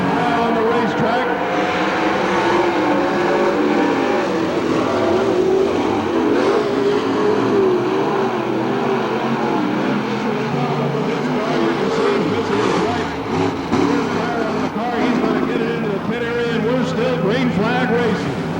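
Race cars racing under green flag at Hamilton County Speedway, a dense continuous roar of engines from several cars circling the track, sustained and loud, with an announcer talking over the noise throughout.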